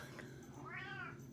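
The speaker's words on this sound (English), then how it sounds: "This cat." A house cat gives a single drawn-out meow with a rising and falling pitch, faint and indoors, against a low steady background hum.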